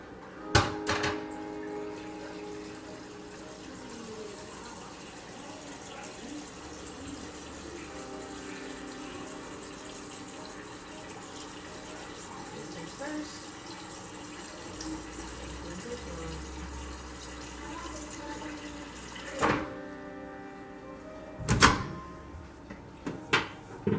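Purified water streams steadily from a refrigerator dispenser into a container for many seconds, a soft continuous pour, followed by a few sharp clicks and knocks.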